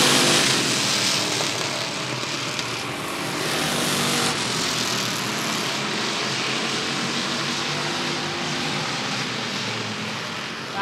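Race cars roar around the Rockford Speedway oval during a roadrunner heat, their engines making a loud, continuous drone that rises and falls slightly as the pack passes.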